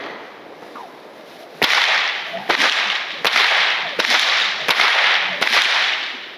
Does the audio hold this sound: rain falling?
no